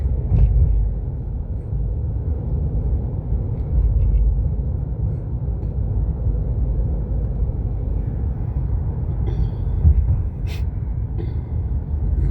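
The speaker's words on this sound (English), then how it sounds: "this big old truck." A big truck rumbles alongside a car driving through downtown Baton Rouge, its steady low engine drone dominating for the whole stretch, close and loud, with faint higher clinks near the end.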